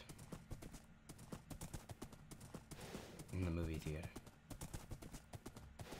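Rapid, rhythmic hoofbeats of a galloping horse in a Minecraft Lion King mod game, close and steady, with a brief loud tonal swell midway; a voice talks over it.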